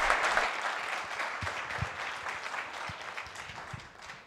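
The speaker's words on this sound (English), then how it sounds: "one more round of applause" An audience at a performance event gives a sustained round of applause, a soft, steady patter of many hands that gradually fades, heard from some distance with no voices over it.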